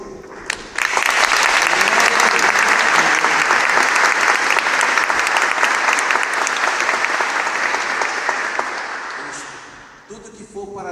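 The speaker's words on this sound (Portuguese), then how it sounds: "Vamos verdadeiramente aplaudir a palavra de Deus." Church congregation bursts into loud, dense applause that holds steady for several seconds, then tapers off near the end as a voice returns.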